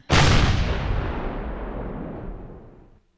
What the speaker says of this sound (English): let's send a rocket over to it